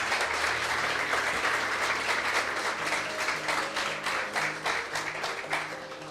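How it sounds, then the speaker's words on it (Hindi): A church congregation applauds for Jesus at a Hindi-language sermon, with steady dense clapping filling the whole stretch while music plays underneath. "आइए ऐसे यीशु के लिए ताली बजाएंगे हम सब"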